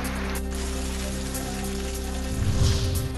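Heavy rain pours down steadily around Indapur after a week-long dry spell, a dense, even wash of drops, loud and continuous throughout, with a low constant hum beneath and a slight swell near the end.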